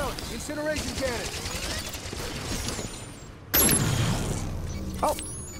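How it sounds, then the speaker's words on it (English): Incineration cannon fire in Halo 5 multiplayer, a loud sudden blast partway through followed by a burning roar, then a second sharp burst amid chaotic game noise and gunfire. "Incineration cannon."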